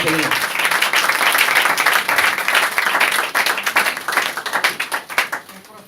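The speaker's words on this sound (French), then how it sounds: "Si vous êtes d'accord, acclamez le Seigneur." A church congregation applauds and cheers, with dense, loud clapping sustained for several seconds and thinning into scattered claps near the end.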